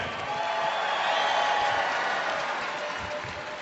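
Arena crowd at a Bassmaster Classic weigh-in applauding for the Geico Gecko mascot, a dense, continuous wash of distant clapping and crowd noise with no distinct voices.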